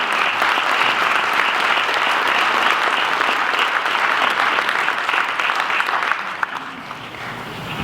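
Audience applause welcoming speakers at a community event on the heroin epidemic in Pennsylvania, a dense steady burst of clapping from a full room, loud and sustained for several seconds before thinning out at the end.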